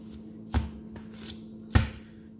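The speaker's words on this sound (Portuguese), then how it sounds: "É uma massa para sovar dando uma batidinha." Focaccia dough is slapped by hand twice in a kitchen, each slap a soft, dull thud against the surface, with faint handling noises between them and no talking.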